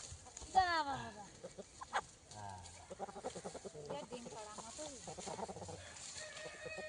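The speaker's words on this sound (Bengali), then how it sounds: "তো মুরগিগুলোকে সব ধরে নিয়ে আসছে দুই হাতে করে" Chickens are carried by hand into a harvested rice field and let loose, giving off scattered nearby clucks and squawks in irregular bursts, mixed with people talking outdoors.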